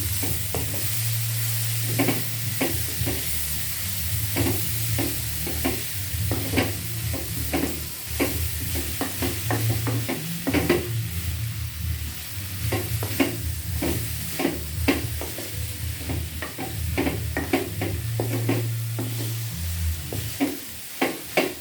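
Papaya flowers stir-frying with spice paste in a pan, a steady sizzle broken by repeated scraping and stirring strokes, close and continuous with no talking.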